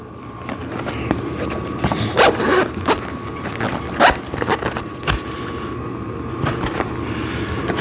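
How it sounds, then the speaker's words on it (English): A zipper is pulled along the padded cover of a sissy squat exercise machine, several short scratchy zipping strokes and rustles at irregular intervals, close and fairly clear. "And then you want to zip this up."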